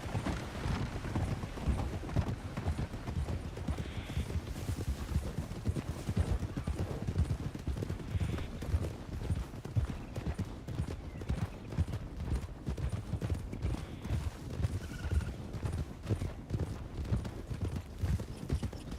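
Horse hooves clip-clopping steadily in a video game, a dense continuous patter that runs the whole time at moderate level, with a faint occasional whinny and no talk.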